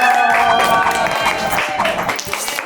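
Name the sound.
loud applause from the audience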